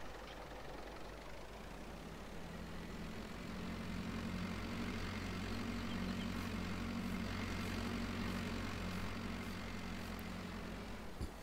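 A tractor engine idles in Farming Simulator 22 with a steady, low, continuous rumble that holds at a moderate level throughout, heard alone without speech.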